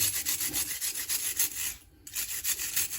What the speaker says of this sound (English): So you just wire brush them off.